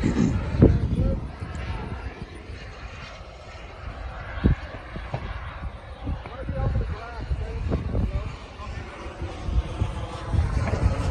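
Two model jets, a Futura and a Rebel Pro, come in to land together, their engine whine rising and falling amid steady wind buffeting, with people talking over the sound throughout.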